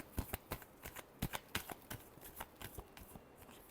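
Tarot cards being shuffled up close, a quick irregular series of crisp riffling slaps and flicks, fairly quiet with no talking.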